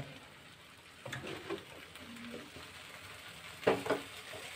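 Spices sizzle in a pan for a Bengali brinjal curry as about a cup of water goes in, a soft steady frying hiss broken by louder crackling spurts when the water hits and the mixture is stirred.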